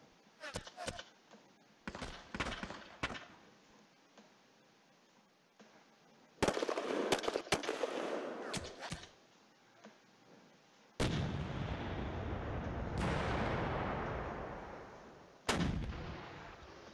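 Rapid bursts of gunfire and heavy artillery booms from the computer war game Panzer Campaigns Stalingrad '42, clustered volleys and loud blasts with long reverberating rumbles, separated by brief quieter gaps.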